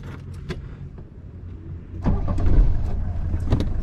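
An old Mercedes car starts and pulls away, its engine catching after a few soft clicks and thumps, then rising into a steady, moderately loud running drone close by.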